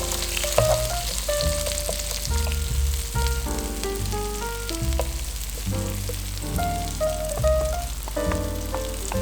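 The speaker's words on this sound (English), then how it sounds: "Now we don't want to char the onions all over, so just give it a stir around." Carrot and onions stir-frying in a pan, a steady sizzle running under loud backing music throughout, with no talking.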